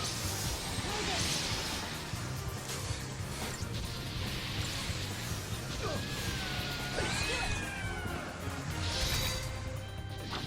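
Cat claws attack in the video game Final Fantasy XIII-2: slashing whacks and crashes with swooshes and short tonal cries over a busy game soundscape, moderately loud.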